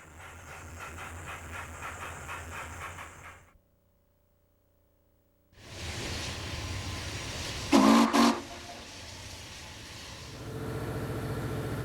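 A steam locomotive, one of several kept operational by volunteers at the Brooklyn Roundhouse, rumbles and hisses with steam, falls silent for a few seconds, then returns louder with a brief whistle or horn blast in the middle.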